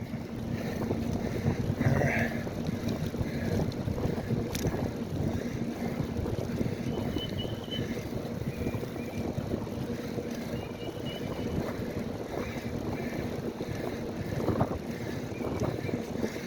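Steady wind roars and buffets a microphone while cycling into a headwind on a ride at a battlefield, a continuous rushing noise with no talking.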